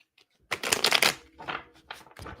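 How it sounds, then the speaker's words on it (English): Tarot cards being shuffled by hand, a quick burst of dense riffling and flicking followed by softer, shorter shuffles and pauses, close up with no talking. "Now I'm going to finish shuffling."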